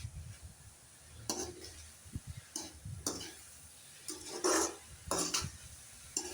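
Carrot and egg mixed in a pan: repeated spatula scrapes and soft clatters in an uneven rhythm, close and moderately loud with no voices.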